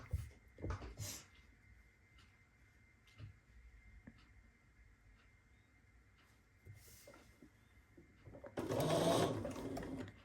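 Sewing machine stitching scrappy quilt block seams with a seam guide, running in short bursts and a long steady run near the end, loud and close with no talk.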